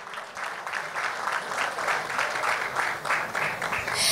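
Steady applause from a pageant audience at a Miss Civilization beauty contest, continuous clapping at moderate volume filling the hall with little else audible.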